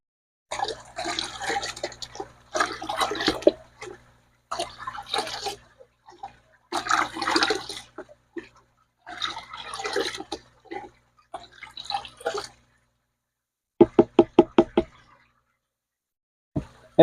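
A probiotic mixture is stirred by hand in water for raising tilapia, with repeated sloshing splashes in bursts, then a quick series of sharp knocking taps near the end.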